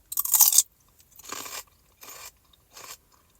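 Celery with mustard being bitten and chewed up close, four crisp crunches with pauses between them, the first loudest, with no talking.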